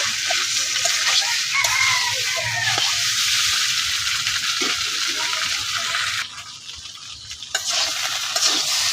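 Potatoes sautéing with spices in a pan for a home-style potato curry: a steady close sizzle under repeated stirring and scraping, with a brief dip in the frying noise near the end.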